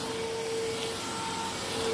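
A cordless Hoover stick vacuum cleaner, a model sold from 2013 to 2015, runs steadily in a living room, its close, loud motor whine holding a constant tone with no talking.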